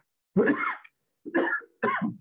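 Three separate coughs, close and fairly loud, with short silent pauses between them; the first is the longest.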